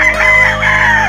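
Rooster crowing on a chicken farm in Silang, Cavite, one loud, close, sustained crow with a strained, wavering tone that fills the whole moment.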